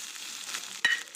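Onion and tomato frying in a pan for egg bhurji, a steady low sizzle with a sharper burst of stirring near the end, close and alone.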